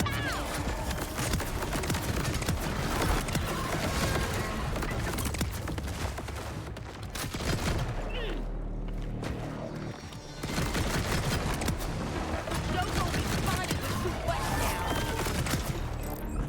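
Rapid, sustained gunfire from a high-fire-rate weapon in the shooter Borderlands 4, dense and loud, with bursts of shots continuing nearly throughout and a brief lull midway.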